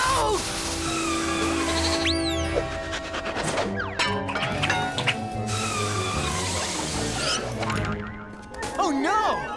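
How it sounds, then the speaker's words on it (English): Cartoon bleats from a baby mountain goat stuck on a snowy, icy mountainside, rising and falling in pitch amid a busy mix of music, effects and a character's voice. "A baby mountain goat is stuck on the snowy mountains."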